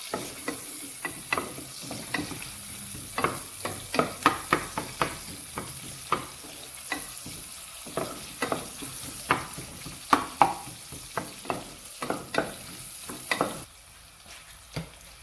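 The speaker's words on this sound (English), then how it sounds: "I'm going to toss it around and fry it for about 30 seconds to a minute" Shakshuka ingredients fry in a pan under a constant hiss while a utensil tosses and scrapes them in a rapid string of sharp knocks, close up, then the stirring stops and only a quieter sizzle remains.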